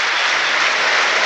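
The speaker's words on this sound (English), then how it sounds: "Seagull supporters applauding in the corner here as well" Football supporters applauding in a stadium during a minute's applause at a Manchester United versus Brighton & Hove Albion match, a dense, steady wash of clapping from a large crowd with no voices over it.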